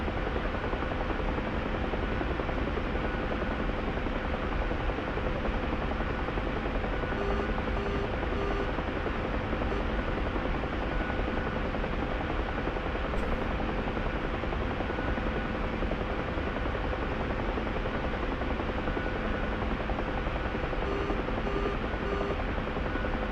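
Steady helicopter rotor and engine drone in a flight sim, continuous and even throughout with a faint steady hum and no voices.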